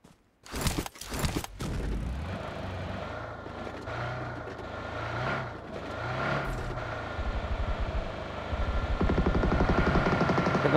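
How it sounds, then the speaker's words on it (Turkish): Car engine in the video game PUBG, opening with a few sharp clicks and thumps, then a steady running drone that rises and roughens toward the end as the vehicle speeds up. "Araba."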